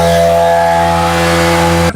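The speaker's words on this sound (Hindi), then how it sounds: "यहाँ पर देख सकते हो अभी भी बाइक स्टार्ट है।" Motorcycle engine idling steadily up close, a loud continuous buzzing drone with a strong hum that holds level for about two seconds before cutting off abruptly.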